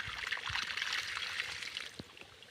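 Water from a well motor's pipe flows steadily into grass on a farm, giving a continuous trickling, splashing hiss with a few low gurgles, close by and on its own.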